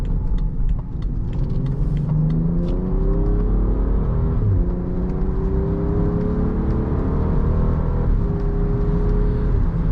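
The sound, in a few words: car exhaust revving during hard acceleration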